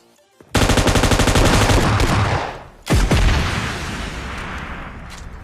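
M249 machine gun fire in PUBG Mobile Lite: a loud, rapid sustained burst, a brief pause, then a heavy shot and another burst fading into a rumbling tail.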